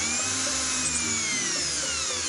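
A high, whining electric drill runs steadily throughout, its pitch gliding slightly, heard up close with no talking.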